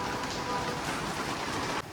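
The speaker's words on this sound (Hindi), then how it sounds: "बहुत तेज बारिश हो रही है, बादल भी गरज रहे हैं" Heavy rain pours outside at night, a dense, steady hiss of falling water that stays loud throughout, ending with a slight drop near the close, with no talk.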